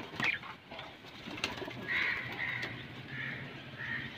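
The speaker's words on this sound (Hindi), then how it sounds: "ये बड़े कबूतर हैं माशाल्लाह" Teddy pigeons coo softly in a loft amid several faint bird calls and cawing nearby, a quiet scene with low background noise.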